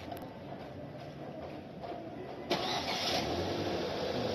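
A car engine cranks briefly, catches and settles into a steady idle after a water pump replacement, heard up close with no one talking.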